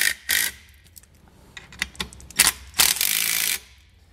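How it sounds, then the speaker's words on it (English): A ratchet snugs bolts into a brass fitting while installing Air Lift LoadLifter 5000 rear air helper springs on a 2020 Ford F-250, giving several short, close clicking bursts with brief pauses between them. "once you have them started hand tight, we'll come back,"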